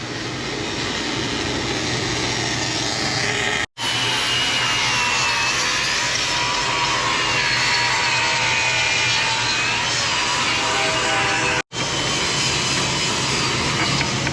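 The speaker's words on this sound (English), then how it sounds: "we're gonna keep on welding here." Wire-feed welding on a broken arm of a Case CX300D excavator makes a loud, continuous crackling hiss for many seconds, cut by two brief breaks in the arc.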